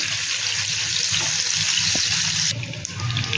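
Eggs fry in a pan over a low flame, giving a steady bright sizzle that hisses continuously, then drops slightly in intensity partway through.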